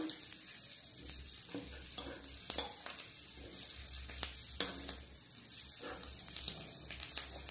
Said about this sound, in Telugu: ఇప్పుడు అందులో మనం కొంచెం కొత్తిమీర వేద్దాం. ఆ తర్వాత మిక్స్ చేద్దాం.